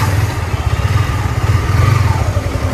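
Yamaha MT-15 V2 motorcycle engine running steadily, a loud, close, continuous throaty rumble with slight pulsing and no talk over it.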